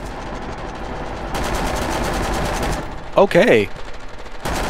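Automatic gunfire in the co-op zombie shooter SCP: Pandemic during a horde mode round, a continuous crackling rattle running for a couple of seconds, followed by a brief player voice and a sharp return of shooting at the end.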